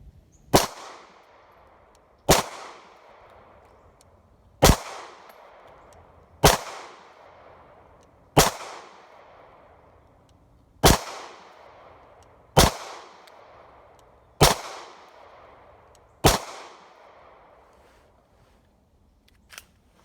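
Hi-Point C9 pistol firing nine single gunshots at a steady pace roughly two seconds apart, each a sharp, loud crack with a short ringing decay, heard outdoors with no talking.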